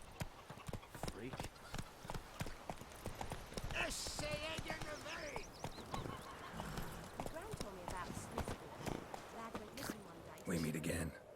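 Horse hooves clip-clop at a steady gallop in The Witcher 3 video game, rhythmic and close, mixed with a horse whinny and game sounds while characters talk over it.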